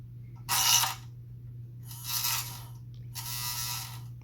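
An old junk electric motor fitted in a 1950s Structo RC model whirs in three short bursts with quiet gaps between them, over a low steady hum, close and moderately loud.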